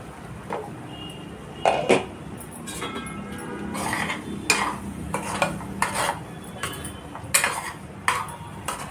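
A spoon stirs coconut chana dal curry in a pan, making scattered scraping strokes and light metallic clinks over a faint low sizzle, with no voices.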